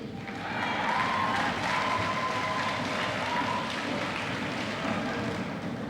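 Audience applause at the Beck Middle School class of 2001 closing exercises: steady, moderate clapping from a crowd in a hall, continuous and even for several seconds.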